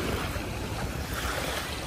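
Sea waves and wind at Dolomite Beach, a steady broadband wash of surf with gusting wind buffeting the microphone, continuous and fairly close throughout.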